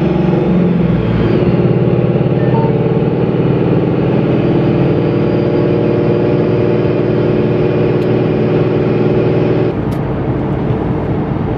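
A car fitted with a new 1,000HP-rated clutch drives through the city with frequent downshifting, its engine droning loudly and steadily from inside the cabin, with a brief change in tone near the end.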